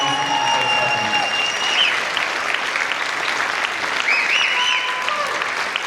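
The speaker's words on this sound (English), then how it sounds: "Give them a round of applause." Concert audience applauding steadily for the school wind symphony musicians at a mid-year band concert, a dense, sustained wash of many clapping hands with a few faint whistles and calls mixed in.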